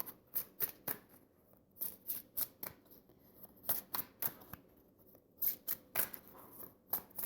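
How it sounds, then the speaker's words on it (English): Tarot cards are pulled from a deck and laid down in a reading, making a series of sharp, close papery snaps and flicks in an uneven rhythm, with no talking. "Let's pull some more cards on this."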